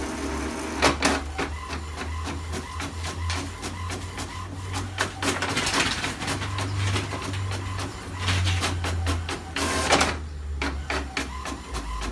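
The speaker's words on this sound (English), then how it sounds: "And so you can see the printer coming out perfectly." A printer with a refilled black ink cartridge runs steadily with a low mechanical hum and a rapid series of clicks and ticks as pages feed through, with no voices.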